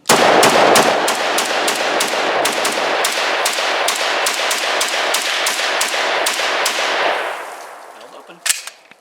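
Rapid bursts of gunfire from a pre-ban SIG SG551 Swiss rifle ring out loud and close in a steady string of shots for about seven seconds, then fade into quiet with one last sharp crack.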